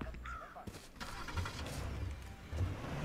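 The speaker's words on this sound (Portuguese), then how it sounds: "Olha o carro da polícia na nossa frente." A police car drives in the video game H1Z1, its engine a low, steady hum that rises slightly near the end amid faint game ambience.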